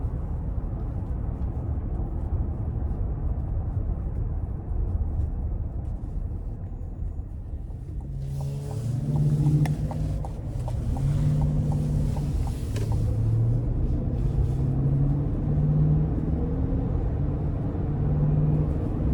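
A deep 6.2-liter V8 engine in a 2025 GMC Yukon XL Denali Ultimate SUV idles low, then revs up into a throaty, rising growl that pulses and holds for several seconds before settling.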